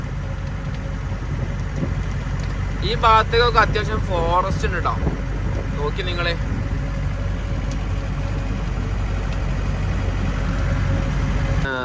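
A jeep's engine runs with a steady low rumble as the vehicle drives off, continuous throughout, while someone talks over it in the cabin.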